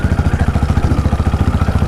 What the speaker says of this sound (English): It sounds like a freaking helicopter when you rev this motorcycle at low speeds and higher gear, open throttle